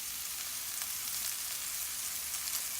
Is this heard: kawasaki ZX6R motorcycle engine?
no